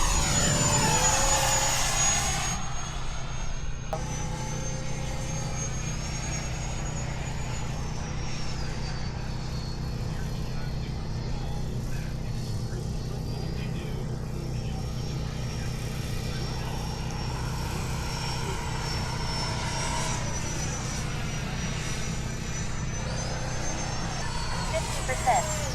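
An upgraded FMS Pilatus PC-21 RC model plane flying at a model airfield, its electric motor giving a steady whine that rises and falls in pitch as it passes, continuous and fairly loud, with people talking nearby.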